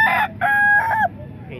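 A rooster crows at a chicken market stall at a tiangge in Calumpit, Bulacan, giving three close, loud bursts with a strained ending, while faint clucking and background noise continue underneath.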